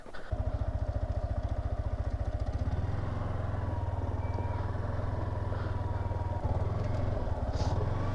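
A V4 motorcycle engine chugs nearby with a rapid, even idle-like pulse as the bike rides off-road through heavy snow with traction control off, its rhythm shifting partway through before evening out again.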